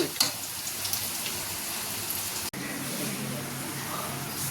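Okra frying in a pan with onion, garlic, turmeric and chilli gives a steady, close, moderately loud sizzle with a fine crackle, broken by one brief dropout.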